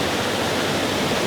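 A waterfall behind the King's House on a very wet day gives a dense, continuous roar of heavy falling water, loud and close, unbroken for the whole moment with no voices.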